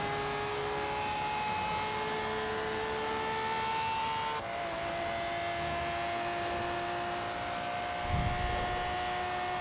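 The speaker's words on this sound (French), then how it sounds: "j'avais oublié que le son était tellement bon sur cette voiture" Engine of a car in Forza Horizon 3 with a stock gearbox lacking sixth gear, droning steadily with tonal harmonics through a gear change, plus a brief low thump near the end; no talking.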